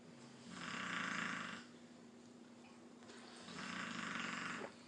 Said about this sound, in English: I hear my dog snoring over there like a grown-ass man